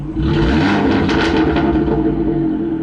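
A 250 bhp Abarth 500's engine revs hard with a deep rumbling note through a Power Motive valved exhaust, sustained for a few seconds with crackling, gunshot-like bangs near the peak.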